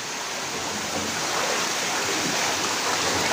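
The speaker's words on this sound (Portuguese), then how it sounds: "Olha aqui a força que a água tá entrando pra dentro." Floodwater up to a metre deep rushes forcefully into a house during a heavy-rain emergency in Turvo, Santa Catarina, a loud continuous broadband roar that holds steady throughout without any talk.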